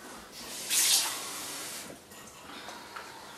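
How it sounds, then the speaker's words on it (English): Water pours from a tap-like stream into a jug already holding titanium dioxide powder, a short bright rush followed by a softer trickle, close and alone with no talk. "I'll pour some water in there."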